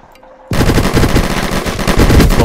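In a GTA online video game, after a half-second of near quiet, loud rapid automatic gunfire erupts and continues in a dense, continuous burst to the end.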